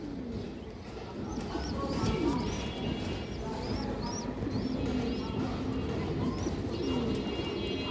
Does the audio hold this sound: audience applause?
no